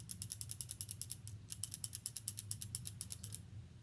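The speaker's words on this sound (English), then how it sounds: "one thing you're going to notice right away with this Ruger LCRx is that it has a little bit of a rattle sound" A Ruger LCRx revolver gives off a quick, close rattle of small metallic clicks, a rapid ratchet-like run of ticks that pauses briefly and resumes, alone with no talk.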